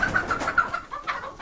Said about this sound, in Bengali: এখানে দেখতে পাচ্ছেন কিছু ফার্মি মুরগি আছে, কিছু লেয়ার মুরগিও আছে